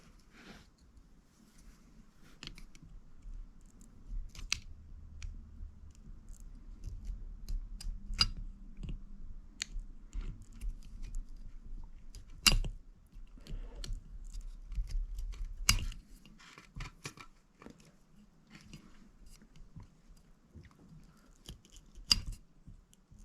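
Scissors snip while a Savox servo is being fitted, giving faint scattered clicks and sharp cuts over a quiet background, with a few louder snips standing out.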